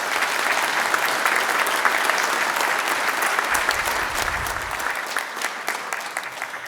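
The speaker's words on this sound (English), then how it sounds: "If we could just give her another round of applause." An audience applauds at a Hall of Fame induction ceremony, with dense, steady clapping throughout that slowly thins toward the end.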